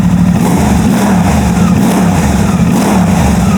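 A Suzuki GSX-8R motorcycle fitted with a full exhaust, ECU flash and airbox mod revs loudly close by, its engine holding a steady, throaty drone throughout with no talking.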